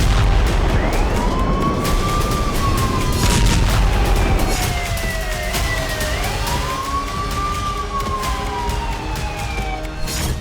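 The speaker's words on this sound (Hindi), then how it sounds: "थर्राती रात और डराती सायरन की आवाज" A siren wails through the night during the Russia-Ukraine war, its pitch sweeping up and down in slow, overlapping rising and falling arcs over a rumbling, noisy background.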